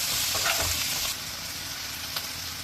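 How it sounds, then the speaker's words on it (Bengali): Shrimp sizzle loudly in a pan while being stirred, a dense crackle with scraping strokes early on that settles into a softer steady fry. "এইভাবে নেড়ে চেড়ে চিংড়িগুলি আমি ভাজা ভাজা করে নেব"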